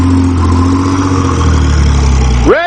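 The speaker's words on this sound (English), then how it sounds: "shift some gears, give some high revs" A Pontiac Fiero V6 engine revs hard and steadily near the microphone, holding a loud high-rpm drone before the pitch sweeps sharply upward at the end.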